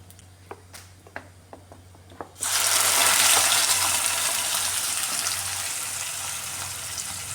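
Ground coconut dropped into a hot pan of oil with dried chillies and curry leaves for kovakka pachadi, bursting into a loud, steady sizzle after a few light clinks and pops, continuing strongly to the end with no talking.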